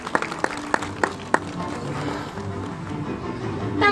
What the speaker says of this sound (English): so a nice big round of applause for Anya